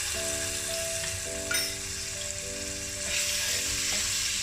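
Ginger garlic paste fries on a low flame, a continuous close sizzle with a brief stirring scrape midway, set against a sustained musical background tone and no talk.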